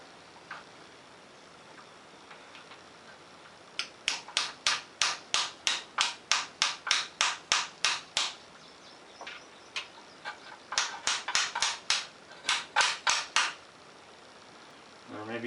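A short 19mm socket taps a part into a Honda CX500 motorcycle: two runs of quick, evenly spaced sharp metallic taps, about a dozen each, close and clear over quiet background.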